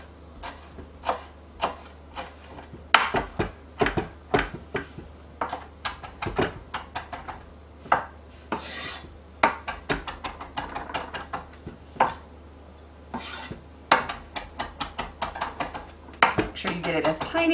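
Italian parsley being minced with a knife on a cutting board, a quick run of sharp, irregular chopping taps and knocks, close and crisp, with short gaps and occasional quiet talk.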